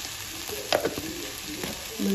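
Potato, beans and cauliflower frying with salt, a soft sizzle under a couple of quick spoon stirs against the pan.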